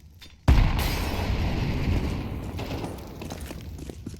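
A grenade in Counter-Strike 2 detonates with a sudden loud boom, its deep rumbling blast and debris wash lingering for several seconds before gradually fading.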